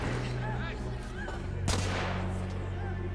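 Gunfire in the Victorian steampunk shooter The Order: 1886, during a cover-based firefight: a loud crack stands out amid a dense, roaring mix of battle noise and musical score that fills the short stretch.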